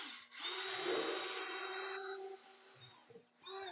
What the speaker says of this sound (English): So we're going to drill a hole in there for my worm screw.